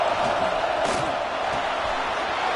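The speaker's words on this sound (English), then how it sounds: "The crowd really making some noise now, trying to help out this defense to get this stop near the goal line." Stadium crowd noise from a college football video game, a loud, steady roar of many voices during a goal-line defensive stand, with a brief swell of cheering partway through and no clear speech.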